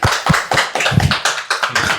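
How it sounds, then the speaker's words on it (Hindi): Dense applause from an audience at an interview with a Bihar Board topper, many hands clapping close and loud in an irregular patter for about two seconds. "और इसके लिए तालियां। तालियां।"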